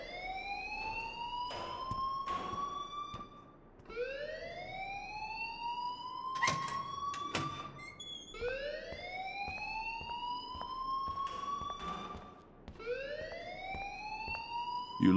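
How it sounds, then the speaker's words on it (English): School alarm sounding in the video game Life Is Strange, a repeating rising electronic wail that sweeps upward again and again in steady cycles, loud and continuous with no talk over it. "please turn off that alarm since that's your job"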